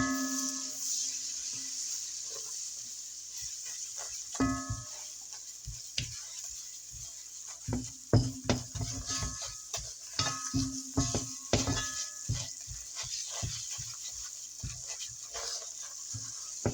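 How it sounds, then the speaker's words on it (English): A butter and flour roux stirred in a pot over medium heat, with soft steady sizzling under repeated scraping and clinking of a utensil against the pan, close and alone. "He's making a roux."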